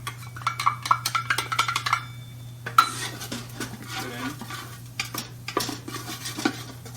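A spice blend of garlic, cumin and chili is stirred into cooked vegetables in a pan, with clinking and scraping of a utensil against the pan over a faint sizzle and a low steady hum, no one speaking.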